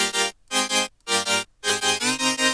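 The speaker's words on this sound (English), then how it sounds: "with very sharp detuned saws" Bright, buzzy synth chords built from sharp, tightly detuned saw waves, played as five punchy stabs in a steady rhythm with short gaps between, loud and alone, the last two bursts running together in a future bass style.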